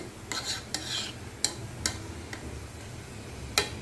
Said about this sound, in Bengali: এই যে আমি খিচুড়িটা আরও একবার নেড়ে দেবো